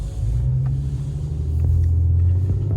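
Dodge Charger Hellcat Redeye Widebody (2020) cruising on a road, a deep steady engine rumble heard from inside the cabin, loud and close, with a few faint clicks.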